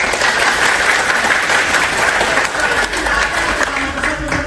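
A crowd at a motivational session gives a loud, continuous burst of close applause that holds steady throughout.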